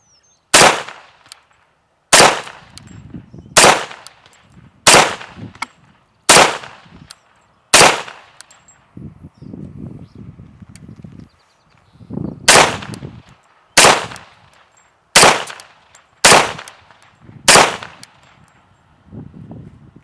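Live fire from an FN FNP 45 Tactical pistol: a string of sharp, loud shots, about a dozen in all, spaced roughly a second apart with a short break midway, each followed by a brief echoing tail.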